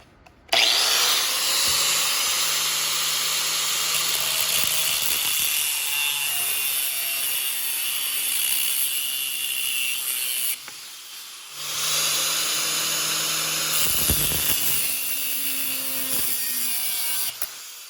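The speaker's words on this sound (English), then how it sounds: "So I'm going to whack it off with my Grinder." A cut-off grinder slices through a short metal rod, a loud, steady high-pitched grinding whine that runs continuously with a brief dip partway through before resuming, with no talking.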